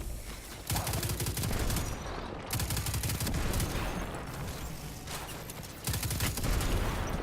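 Rapid gunfire rattles in the Destiny 2 video game in dense continuous bursts with short breaks between volleys, loud and close with no talk over it.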